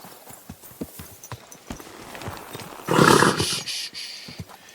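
Horse hooves clip-clop steadily at a walking pace in the video game Kingdom Come: Deliverance II, close by, with a brief burst of louder rustling noise in the middle.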